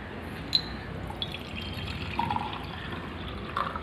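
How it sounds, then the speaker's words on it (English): Water poured into a glass laboratory beaker set on a wire gauze over a stand, a soft, faint trickle with a few small drips and splashes, heard up close without voices. "In that beaker we should pour some water."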